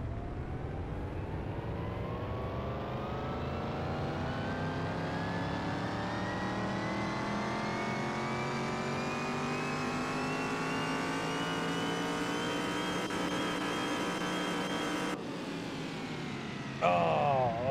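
A fully restored Dodge Daytona's engine is run on a stock dyno in Car Mechanic Simulator 2021, revving in one long smooth climb for about fifteen seconds before cutting off abruptly.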